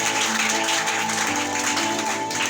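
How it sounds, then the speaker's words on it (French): A church congregation at a Sunday service applauding, a continuous dense wash of clapping with sustained tones beneath it, loud and steady throughout. "Acclamons très fort la parole du Seigneur."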